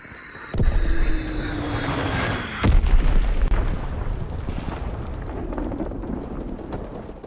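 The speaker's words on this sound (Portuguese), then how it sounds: "Soltando bomba Fritz X." A Fritz X guided bomb striking in Call of Duty WWII: two heavy, close blasts a couple of seconds apart over the drone of aircraft, followed by a rumbling, crackling aftermath.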